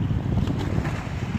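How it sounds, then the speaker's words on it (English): Steady wind blowing along the Lake Michigan shore in Chicago, a continuous loud low rumble of gusts buffeting the microphone with waves washing underneath, no voices. "It's a little windy."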